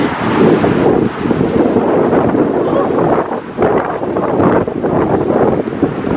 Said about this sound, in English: Now it's getting more and more windy.